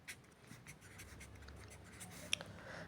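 Faint scratching of a pen or pencil on paper while a math problem is written out, soft uneven strokes with a sharp tap near the end, quiet and close.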